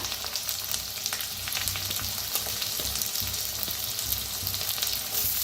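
Onion frying in a pan for a safflower-greens dish: a steady, close sizzle with occasional light clicks and scrapes of stirring, and no voices.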